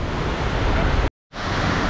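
Waterfall on Mt. Binicayan in Montalban, Rizal, a loud steady broadband rush of falling water that fills the clip, cut by a brief silent gap before the roar resumes.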